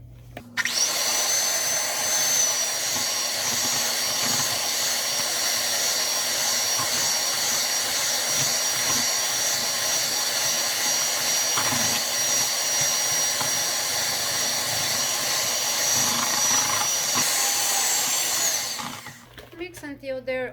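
An electric hand mixer beats eggs and sugar as vanilla, milk and oil are poured in for a vanilla Swiss roll sponge, a steady loud whirring drone running without pause for about eighteen seconds before it cuts off.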